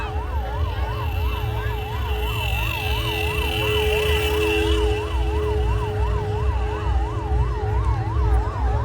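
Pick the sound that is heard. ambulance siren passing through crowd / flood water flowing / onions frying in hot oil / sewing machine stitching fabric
ambulance siren passing through crowd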